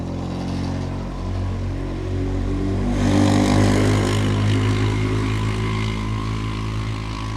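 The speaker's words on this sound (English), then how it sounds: "Noisy person on a quad bike." A quad bike engine drones past in a forest, a loud, steady motor roar that swells in the middle and then holds, with no talking.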